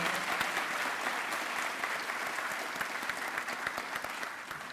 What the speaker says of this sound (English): Let's give another round of applause to Janaya